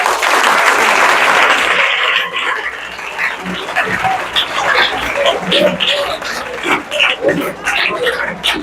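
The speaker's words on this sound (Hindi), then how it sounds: "तालियों से स्वागत करो" An audience at a school felicitation event for a Navodaya-selected student breaks into loud clapping, dense at first and then thinning into scattered claps, close by, with some voices mixed in.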